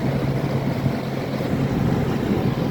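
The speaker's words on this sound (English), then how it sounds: "you can just barely hear the compressor running" An Amana 9,000 BTU PTAC heat pump runs in heat mode, its compressor giving a steady low hum under a broad, even airflow rush with no pauses.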